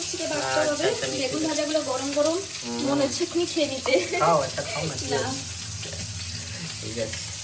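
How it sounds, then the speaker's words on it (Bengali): Vegetables frying in a pan, a constant close sizzle heard beneath someone talking for most of the stretch. "আর সবজি ভাজা চলছে"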